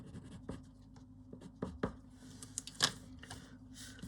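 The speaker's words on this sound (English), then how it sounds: "these Holbein pencils feel really nice on this cheap paper" Holbein colored pencils scratching across cheap paper, a soft, close papery rasp of strokes with a few sharper taps and scuffs, alone with no talking.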